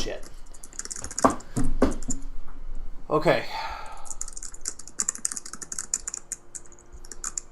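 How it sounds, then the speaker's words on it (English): Someone types rapidly on a computer keyboard during an online group call. Close, irregular clicks and key taps continue throughout, and a voice briefly speaks over them. "that's why I heard you typing away"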